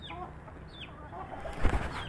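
A chick calls up to its mother hen from the ground below a tree, with short clucking fowl sounds and a burst of wing flapping near the end, close and fairly clear, with no talking.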